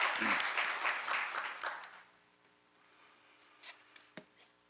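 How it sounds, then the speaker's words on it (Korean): A church congregation at a Sunday service applauds for about two seconds, loud and close at first, then fades quickly to near silence, with only a few scattered claps or knocks afterward. "하나님께 영광의 박수로 같이 돌리겠습니다"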